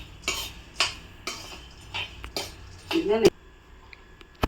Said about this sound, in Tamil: இப்போ வந்து வேர்க்கல்லையும் உடச்சக்கல்லையும் வறுத்துட்ருக்காங்க